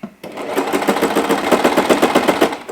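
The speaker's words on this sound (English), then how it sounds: "I'm just going to sew a straight stitch all the way across" A sewing machine runs a straight stitch at its shortest stitch length while preparing a narrow rolled hem, giving a fast, steady, evenly pulsing mechanical whir that stays close and loud throughout.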